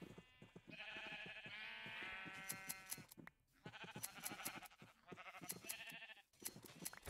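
Sheep in Minecraft bleat repeatedly, a string of wavering baa calls that overlap one another, close and clear with no talking.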